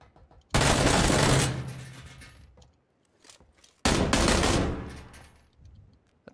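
Two loud, sustained bursts of automatic gunfire in a video game firefight inside a warehouse, each cutting in abruptly and trailing off into a decaying rumble, with a short quiet gap between them.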